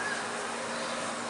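Honeybees hum in a dense, continuous buzz around an open hive during a mite treatment, steady and close with no other sounds.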